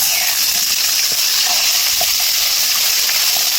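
Ground spice paste fries in oil in a hot pan with a loud, close, continuous hissing sizzle. Faint crackles and light stirring scrapes come through it.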